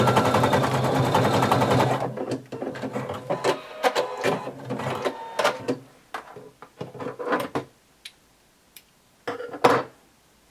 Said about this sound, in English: by just sewing right over the zigzag stitches that are already there